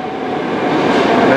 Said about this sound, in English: As the next train arrives